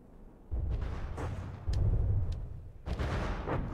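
Torpedoes striking a battleship in a naval combat video game land as three heavy, booming impacts in quick succession, each a dull low rumble with a crackling burst on top.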